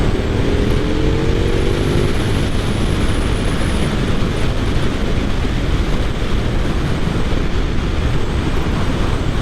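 A 2023 KTM 1290 Super Duke GT motorcycle pulls hard in fourth gear, a loud, continuous engine roar mixed with heavy wind rush, steady throughout with no talking.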